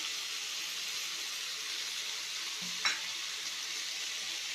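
Sambar masala with chili powder sizzling softly in a pan on a low simmer, a steady faint hiss, with one brief scrape of stirring partway through.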